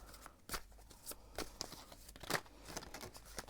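Tarot cards shuffled by hand in quick, crisp riffling bursts, faint and close, with no talk over them.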